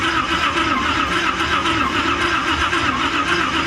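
A swapped-in truck engine cranks and turns over without firing, with no spark connected, a loud, dense, continuous churning starter rumble up close.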